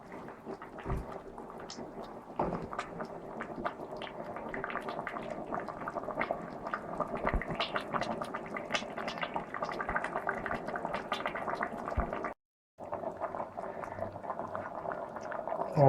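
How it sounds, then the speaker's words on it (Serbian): Beef đuveč stew simmering in a pot, a soft continuous bubbling with small pops and occasional faint knocks, steady and fairly quiet, cutting out briefly near the end. "Ovo se lepo krčka."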